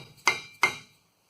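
Two sharp knocks from a dead blow hammer tapping axles into the 8.8 rear differential of a 2008 Ford F-150, struck about a third of a second apart, each with a brief ringing metallic decay before silence.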